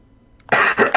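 A single sharp cough from a person close to the microphone, breaking in after near silence and followed by a second rough burst.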